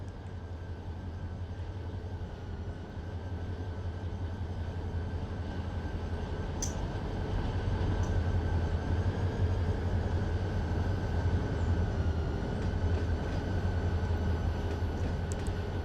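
Trains roll through a rail yard in Run 8 Train Simulator, a low, continuous rumble with a steady engine hum that grows slightly louder midway, without voices.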